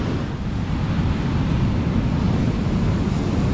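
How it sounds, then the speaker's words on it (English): Huge, rough surf breaking on New Smyrna Beach in Florida, a loud and continuous roar of crashing waves close by, mixed with gusty wind buffeting the microphone and no talk. "And you can see the waves come up and get all the way behind her up against the dunes"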